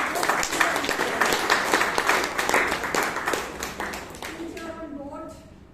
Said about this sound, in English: can we have a great round of applause?